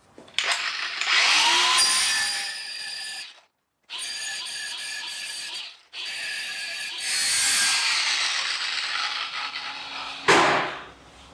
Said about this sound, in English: I'm going to cut this with an angle grinder actually